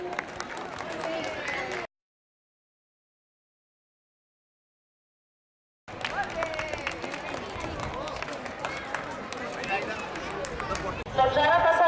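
Audience clapping at a spring market stall prize-giving, loud and sustained before a few seconds of silence, then resuming with crowd babble and cheers mixed in.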